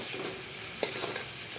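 Onions sauté in a pan for a fish curry with sponge gourd, a soft, steady sizzle close by with one sharp stirring clack partway through, no voices.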